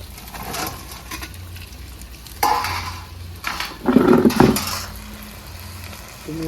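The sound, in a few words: cauliflower pieces frying in hot oil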